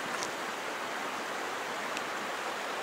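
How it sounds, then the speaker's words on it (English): Rocky Creek in Kananaskis runs steadily nearby, a broad, even rush of flowing water with a constant hiss and no voices over it. "I'm walking for now along a creek"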